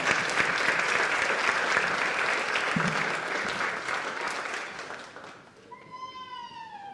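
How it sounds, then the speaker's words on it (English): An audience at a school board meeting claps steadily for several seconds, the applause thinning out near the end as a sliding meow-like tone rises over it. "Cassidy, double clap."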